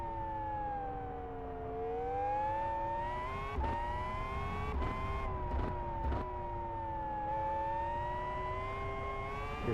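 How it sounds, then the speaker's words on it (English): A modded car in Live for Speed S3 screams at high revs. Its steady, buzzing engine tone climbs and dips through several quick breaks, with wind distortion rushing over the top. "you get up to high revs as well, high speed with the wind distortion"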